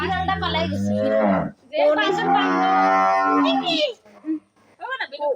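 A cow on a small cattle farm gives two long, close, drawn-out moos, followed by a few brief voice sounds at the end.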